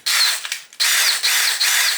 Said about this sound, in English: my drill, and the jaws will grab the case like that, and then I gently tighten it